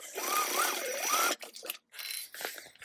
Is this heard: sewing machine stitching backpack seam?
yes